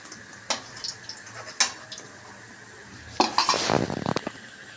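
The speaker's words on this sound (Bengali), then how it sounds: "এবার আমি সোয়াবিনটা তুলে দিচ্ছি সবজির ভিতর" Fried soybean chunks are tipped into a pan of vegetables, with a few sharp clinks of a utensil against the pan followed by a burst of sizzling and stirring clatter near the end.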